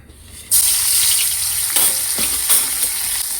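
Puti fish drop into hot oil and burst into a loud, close sizzle that keeps crackling steadily, with a few sharper spits as frying goes on.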